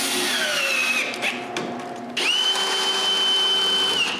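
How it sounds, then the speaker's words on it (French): A power drill driving screws to fix a dust flap in place, with high whining bursts that start, stop briefly and then run steadily, close up and loud. "je dois le visser pour qu'il ne bouge pas."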